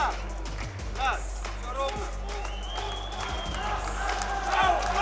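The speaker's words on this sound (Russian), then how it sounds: "аплодисменты публики" Applause, cheering and whoops from a crowd at an MMA fight fill the arena, a steady wash of clapping under a commentator's ongoing talk.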